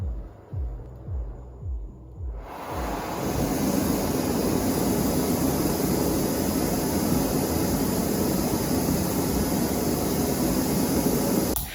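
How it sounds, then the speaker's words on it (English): An MSR PocketRocket camping stove burner gives a few soft ticks, then breaks into a loud, steady roaring hiss that holds without change until the end. "putting the PocketRocket 2 and Deluxe to a noise test, at both their lowest and highest output settings"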